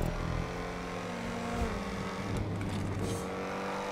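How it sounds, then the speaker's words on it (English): An XA21 car engine in a video game drones continuously, a loud, steady buzzing rev with shifting pitch and harmonic layers, heard close and alone. "The one thing I don't like about the XA is the engine sound."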